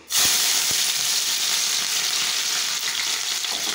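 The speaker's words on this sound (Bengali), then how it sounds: "এই যে তেলটা গরম হয়ে গেছে, এখন এক এক করে সব দিয়ে দেবো" Capsicum, carrot, peas and green chilli hit hot oil and fry with a loud, steady sizzle and hiss that starts abruptly and carries on without pause, close up, with no talking.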